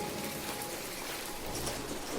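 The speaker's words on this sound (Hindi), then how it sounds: "अरे, ये क्या, इतनी तेज बारिश और हवा!" Heavy rain pours down steadily in a dense, even hiss of drops striking surfaces, moderately loud and continuous throughout; any strong wind blends into the constant wash.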